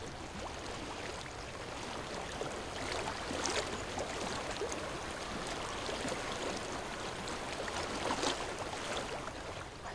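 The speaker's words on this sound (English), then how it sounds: "I hear water. Go to it." Water in a stream flows continuously in the game Hellblade: Senua's Sacrifice, a soft, steady rushing wash with faint surges, quiet and unbroken, with no voices.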